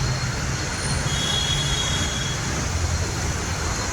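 Metro train running, a steady broad rumble with a faint high whine from the wheels, continuous throughout and fairly close, with no voices.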